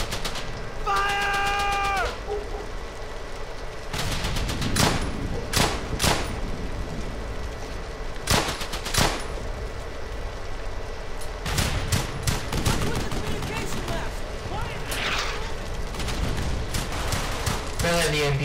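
Close, loud gunfire in the World War II shooter Brothers in Arms: Hell's Highway: repeated sharp rifle and submachine-gun bursts, MP40 among them, rattle in irregular volleys over steady battle din, with a brief high call near the start.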